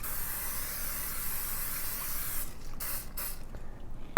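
Baking spray with flour hisses steadily into a round cake pan for about two and a half seconds, close and fairly loud, then sputters into a few short bursts before stopping.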